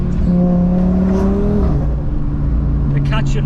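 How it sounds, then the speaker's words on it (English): Audi RS3 five-cylinder engine revving and dropping back, a loud, close burst of rising engine tone that falls away, with someone talking over it. "The catch and rev thing, man, I have to do it once every RS3 video"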